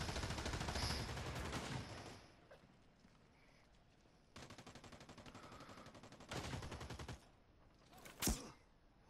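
Gunfire and sniper shots in the online military shooter America's Army: Proving Grounds, with a dense burst of rapid fire early, quieter stretches, further volleys and one sharp loud crack near the end.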